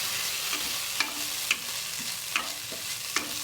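Fried rice tossed with red and green chilli sauces in a pan, a steady frying hiss under repeated scraping stir strokes at roughly half-second intervals, close and fairly loud with no talk.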